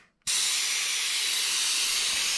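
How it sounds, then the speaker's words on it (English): An airbrush sprays paint in a stippling pass to build a granite finish, a loud, steady, close hiss that starts abruptly after a brief silence and holds evenly to the end. "Now you'll notice as I start to spray that"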